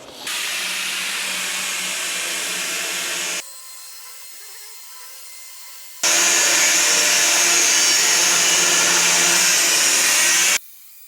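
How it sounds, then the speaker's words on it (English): Angle grinder cutting with a 3M Cubitron abrasive disc on workbench steel: two long loud steady cuts with a brief quieter idle whine between them, close and continuous, no talking. "get the Cubitron free on the other grinder there. And just do them last 2 cuts there, Cal."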